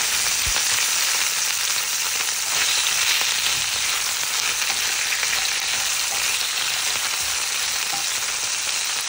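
Artichokes fry in a salted pan with a steady, dense sizzle that holds evenly throughout, broken by a few faint stir clicks and nobody talking.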